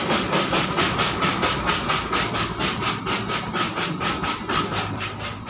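The Darjeeling toy train arrives at Batasia Loop, a steady loud chugging with rapid regular beats over a broad hissing rumble, close by and continuous with no talk.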